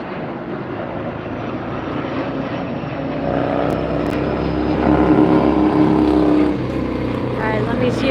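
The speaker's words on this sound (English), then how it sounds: "FedEx MD-11 here." FedEx MD-11 cargo jet at LAX airport, a steady broadband jet engine roar that swells louder in the middle and eases slightly near the end, with faint background voices beneath.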